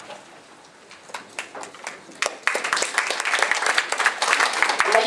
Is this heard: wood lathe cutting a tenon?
no